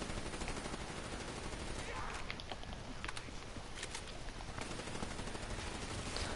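Gunfire at zombies in a PS4 video game crackles in rapid automatic bursts and scattered single shots, moderately loud over a dense noisy background.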